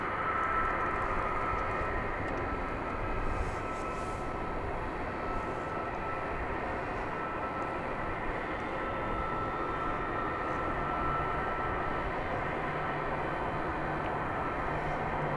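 An airliner about 24 years old starts its takeoff roll with a smoky start at DFW Airport at night, giving a steady, loud, broadband jet roar that holds for the whole stretch with no talk.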